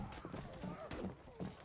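Horse hooves clip-clop in the medieval combat game Mordhau, a few quick irregular thuds passing close by during chaotic fighting, with a voice talking over them.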